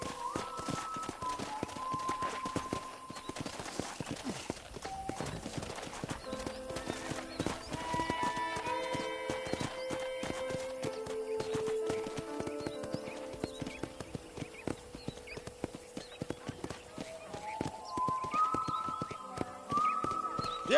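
Video game horse on a ranch, hooves clip-clopping steadily at a gallop with occasional whinnies over a music bed, close and continuous.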